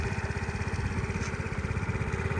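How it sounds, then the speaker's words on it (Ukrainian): A Suzuki Lets G Basket scooter engine idles quietly and evenly, a steady close-up putter with regular rapid pulses and no voices. "Тихенько, гарно працює двигун, ніяких питань немає."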